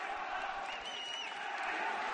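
Esports grand final crowd cheering and whooping heard faintly at a distance, a thin roar of many voices with a few rising shouts, sustained throughout.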